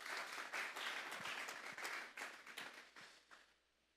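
Church congregation applauding, a full burst of many hands clapping that thins into a few scattered claps and fades out at the end.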